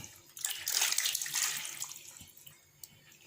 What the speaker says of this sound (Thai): มาลวกน้ำร้อนก่อนมาต้มก่อน